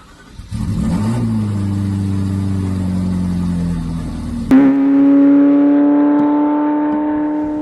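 A powerful twin-turbo V8 Ferrari F40 engine with 471 horsepower roars loudly, its pitch climbing, then a sharp shift gives way to a steady, higher-pitched drone.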